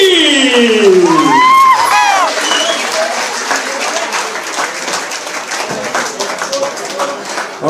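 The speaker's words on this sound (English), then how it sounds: "Ladies and gentlemen, a round of applause for Gary renowned Peter Sabraki" A fight-event crowd bursts into loud applause and cheering, with an announcer's voice and whoops over the opening seconds, then steady dense clapping continues.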